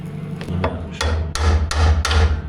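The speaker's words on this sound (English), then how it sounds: "So that's like firing a shotgun when it loosens." A seized suspension bushing bolt on a Land Rover breaking free under tools, a series of sharp, loud metallic cracks and bangs at close range in a workshop.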